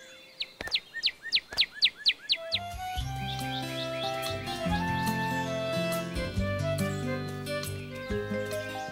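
Cartoon bird chirps in a wooded countryside scene: a quick series of about eight sharp, rising tweets up front, then bright cheerful chirps scattered over a bed of light background music.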